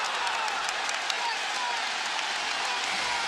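Crowd noise fills the Amway Center during an NBA playoff basketball game between the Hawks and Magic, a steady wash of cheering and applause that holds at an even level throughout.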